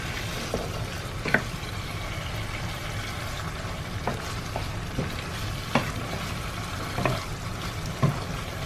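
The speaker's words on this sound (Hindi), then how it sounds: "आप देख सकते हैं ये अच्छी तरीके से भून गया है।" Kaleji liver masala frying in oil, Hyderabadi style, a steady close sizzle broken by repeated scraping and stirring clicks of a spoon against the pan.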